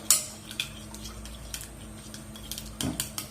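A spoon stirring beef marinade made with yogurt, olive oil and pepper paste in a bowl, a few soft clinks and wet scrapes, faint and close.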